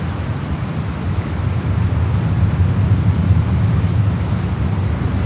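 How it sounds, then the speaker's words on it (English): Water moving in San Francisco Bay beside the airport, a steady low rumble and wash that swells slightly midway, blended with gusty wind buffeting the microphone, with no voices. "Love to hear the sound of the water in the bay"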